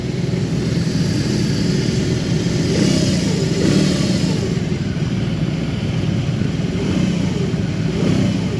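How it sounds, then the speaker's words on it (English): BMW R18B motorcycle with a big boxer engine being revved, a loud, close, continuous throaty roar that swells and settles over several seconds with no talking. "This thing is got some torque when you rev it. It twists with the boxer engine."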